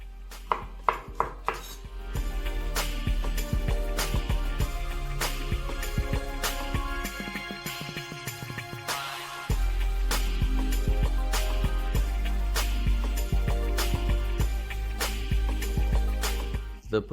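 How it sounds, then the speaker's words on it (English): A knife chopping potatoes into small cubes, a steady series of sharp, close taps on a cutting board, with some clattering of kitchen utensils and a low continuous background hum. "The potatoes are chopped."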